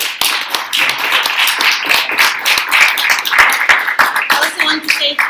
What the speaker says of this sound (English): please join me in a round of applause for our panelists today